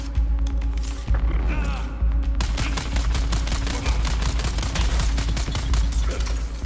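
Rapid gunfire in a video game shooting at an enemy, dense bursts of shots repeating continuously and loud, with a voice briefly talking early on.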